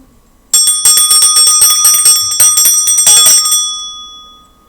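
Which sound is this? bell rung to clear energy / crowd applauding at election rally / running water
bell rung to clear energy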